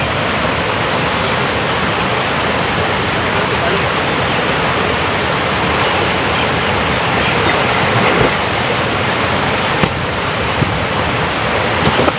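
Water waves surge and wash in a steady, loud broadband roar that continues without a break, and voices can be heard faintly under the rush.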